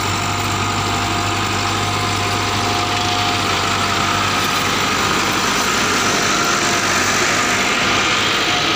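A decorated Massey Ferguson MF 385 tractor with a custom bumper and roof runs its diesel engine at a steady idle, a continuous loud hum and vibration with no talk.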